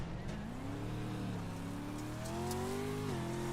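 A 900-horsepower four-wheel-drive race truck roars in the iRacing video game, its engine droning steadily and then climbing in pitch as it revs up, loud and close with no talk over it.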